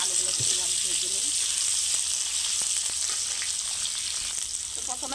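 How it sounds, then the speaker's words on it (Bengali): Potatoes fry in hot oil in a pan, giving a steady close sizzle throughout, with a voice speaking briefly over it. "এখন আমি এখানে আলুগুলো ভেজে নেব।"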